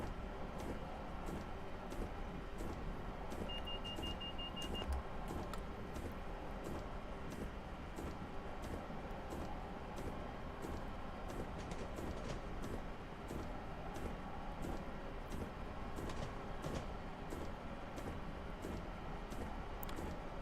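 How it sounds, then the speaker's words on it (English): Cab ambience from an East Coast locomotive in Train Simulator Classic: a steady, even wash of engine and rail rumble runs throughout, with a faint repeating beat from the windscreen wipers over it. "the windscreen wipers are louder than the locomotive"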